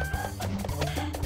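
Chickens clucking in the video game Pollitos en Fuga, a busy run of short repeated clucks over game music.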